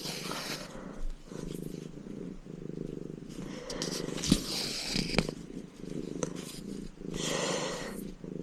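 A sixteen-year-old pet cat purring close by, a steady rhythmic rumble that rises and falls with each breath and continues through several cycles, with occasional small handling noises.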